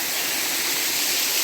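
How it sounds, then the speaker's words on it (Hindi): Waterfall behind a temple along the Narmada parikrama route, a steady, dense rushing and hissing of falling water that stays constant and fairly close throughout, with no voices. "यहाँ पर झरना भी बहता है पीछे"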